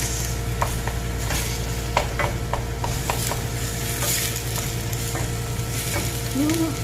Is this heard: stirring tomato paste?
yes